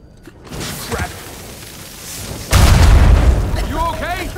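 A loud explosion in the video game Uncharted 4 hits with a heavy booming blast halfway through, preceded by rumbling debris and followed by a lingering roar with a few faint tonal game sounds.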